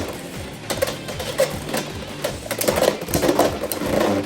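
Beyblade spinning tops, DranDagger against HellsChain, clash in a stadium with a dense run of sharp clicking and metallic impacts, louder hits punctuating the continuous rattle of the spinning tops.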